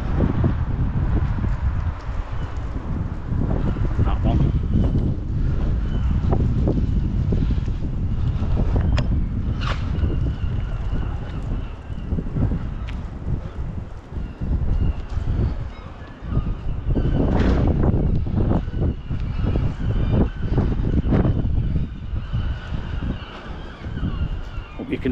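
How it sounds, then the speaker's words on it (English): Steady buffeting wind noise on the microphone during an outdoor walk along a residential avenue in Blackpool, a broad low rumble that persists loudly throughout with no clear talk. "Apologies for the wind."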